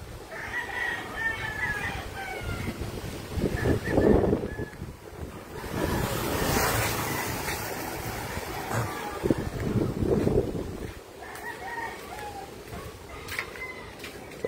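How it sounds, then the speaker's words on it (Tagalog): Strong wind roars and buffets the microphone in surging gusts, with a rooster crowing faintly in the distance and a voice now and then. "It's so windy."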